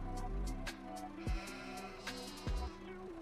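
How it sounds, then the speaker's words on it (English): Sheep bleat on a livestock farm in Farming Simulator, three or four clear wavering calls spaced about a second apart, close and moderately loud over a faint steady background. "We have sheeps and goats."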